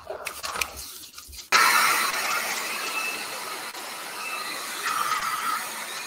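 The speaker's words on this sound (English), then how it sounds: "I'm gonna hit that with a hair dryer" After some clicking and handling noise, a hair dryer switches on abruptly, drying acrylic paint, and blows with a steady, loud airy whoosh that continues to the end.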